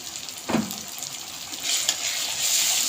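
Soybeans and chickpeas fry with turmeric and plenty of chili powder under a dense, bright sizzle. A sharp spoon scrape comes early, and the hiss swells louder toward the end, near and without talk.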